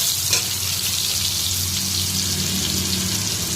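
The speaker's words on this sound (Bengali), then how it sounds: "আলু আর বেগুনটা ভালো করে ভেজে নিলাম" Potatoes and eggplant fry in a pan of oil with a steady, close hiss of sizzling that carries through without any talking.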